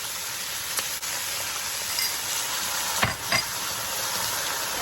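Vegetables with cornstarch stirred in a hot pan, a steady broadband sizzle and hiss of frying with a couple of brief louder scrapes of the utensil, close and continuous with no talk.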